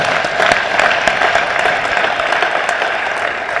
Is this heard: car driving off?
no